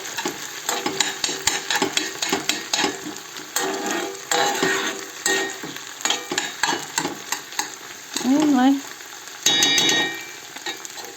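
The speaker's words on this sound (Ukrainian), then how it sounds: "отако ми ще їх трохи жаримо разом з цибулею" Mushrooms frying together with onion in a pan for a Carpathian mushrooms-in-sour-cream dish, with a soft sizzle under repeated scraping stirs and the clink of a utensil against the pan, close and fairly loud, with no talk.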